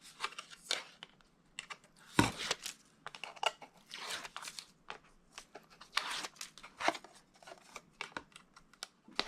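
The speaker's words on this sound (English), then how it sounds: "I am going to peel away my tape from both pieces." Tape is peeled off pieces of a homemade tablet case in short, faint, crackly tearing and crinkling bursts, close by and uneven in rhythm.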